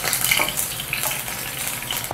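Mustard seeds, cumin, asafoetida and chili pieces sautéing in hot oil, giving a close, steady sizzling hiss with faint crackles throughout.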